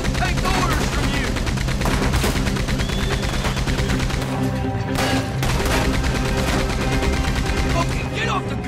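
Rapid gunfire in the Red Dead Redemption 2 video game, dense volleys of shots rattling continuously under a music bed with a few louder cracks standing out.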